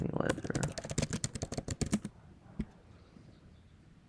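Rapid keyboard typing on a computer for about two seconds, a dense run of sharp clicks that then stops, followed by a lone tap and near silence.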